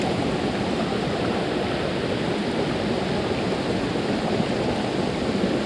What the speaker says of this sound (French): la grande cascade